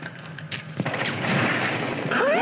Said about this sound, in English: What are you shooting at me for?